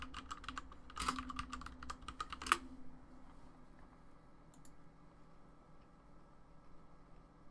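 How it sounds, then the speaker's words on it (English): Fingers type on a computer keyboard in quick bursts of clicks with two sharper key thumps. After about three seconds the typing stops and leaves only a quiet electronic hum. "I'm just typing bridge Hobbit then."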